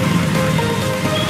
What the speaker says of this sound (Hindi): बस बारिश हो रही है